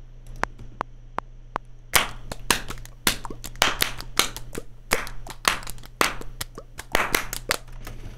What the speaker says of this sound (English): Got a little clapping in there.